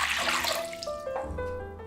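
Water poured into a bowl to soak Chinese eggplant with vinegar, a short splashing pour close by that fades under a low musical background.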